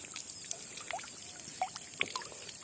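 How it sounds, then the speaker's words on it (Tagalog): Water from a spring-fed well runs through a hose onto pechay plants in a home garden, giving soft, uneven splashes and gurgles that sound fairly close and low. "Ito ang aming tubig. Siyang pinandidilig sa pichay."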